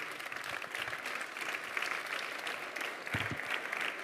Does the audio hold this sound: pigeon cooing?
no